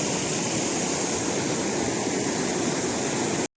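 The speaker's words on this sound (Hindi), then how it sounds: "तो दोस्तों फिर मैं आई नदी में।" River water flows in a village setting, a steady, full rushing wash heard close and continuous, with no voices, ending abruptly.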